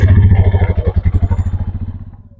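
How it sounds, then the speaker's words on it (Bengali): A motorcycle engine idles and pulls away near a roadside in Siliguri heading out on a ride toward Gangtok, a loud low pulsing thump that slows and fades over a couple of seconds. "বাইক নিয়ে বেরিয়ে পড়লো"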